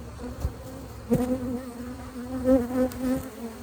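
Honey bees buzz around an opened, healthy beehive full of brood, nectar and pollen. A steady, close droning hum rises and falls as individual bees fly past, with no voices.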